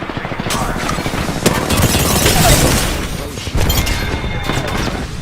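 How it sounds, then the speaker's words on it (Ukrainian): Distant gunfire in Apex Legends on PS5, bursts of shots and booms crackling over a dense, loud backdrop of game noise. "а ще одні здалеку стріляють."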